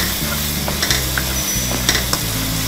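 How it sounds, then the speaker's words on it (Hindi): Masala sautés loudly in a karahi for badami mutton karahi, a continuous sizzle and crackle broken by repeated scraping stirs of a spoon against the metal, close up with no voices. "देखिए हम अच्छे से भुनाई कर रहे हैं।"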